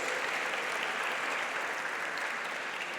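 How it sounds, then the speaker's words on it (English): Steady, dense applause from an audience at a store launch event, many hands clapping evenly throughout at a constant moderate level with no speech. "Please give these guys a round of applause."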